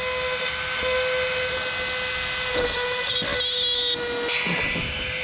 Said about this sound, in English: you're gonna need a Dremel